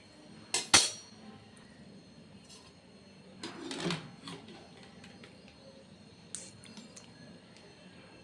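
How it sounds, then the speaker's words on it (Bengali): Mangoes are dropped one by one into a bowl of cold water, making a few sharp splashy clinks and a soft dunking thud, close up in a quiet kitchen with faint background hum. "আমগুলো ঠান্ডা জলের মধ্যে রেখে দিচ্ছি"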